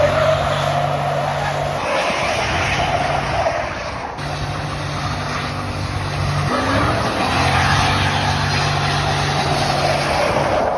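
Loud, sustained tire squeal from a 2005 Toyota 4Runner doing a smoky burnout, steady screeching over engine roar for the full stretch with a brief dip near the middle.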